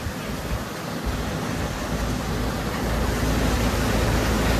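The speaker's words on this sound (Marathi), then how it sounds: "तर आता इकडं पाऊस चालू आहे जरा इथं माग तर लईच पाऊस होता" Heavy rain drums on a truck in a loud, unbroken roar of wash and rumble that swells slightly toward the end, with no talking.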